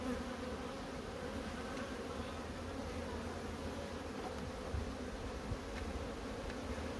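Honeybees buzz around a hive, a steady, dense, low hum of many insects holding at an even level without pause, with no voices.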